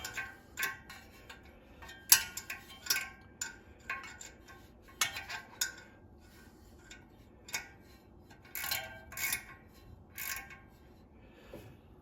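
A wrench turns the engine pulley on a 1969 Dodge Charger R/T, giving sparse, irregular metallic clicks and ticks close by, with quiet pauses between short bursts.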